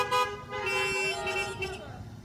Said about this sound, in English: Honk your horns if you can hear.